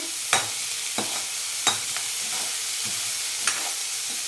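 Vegetables for homemade veg noodles frying in a hot pan, a steady bright sizzle broken by a few sharp scrapes and clacks of a stirring spoon, close and alone with no voices.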